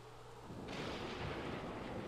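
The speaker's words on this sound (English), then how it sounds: "Ooh, lightning." Thunder from a lightning strike in the Sims 3 video game, a sudden broad rumbling crack that swells in and stays loud and sustained, heard alone without talk.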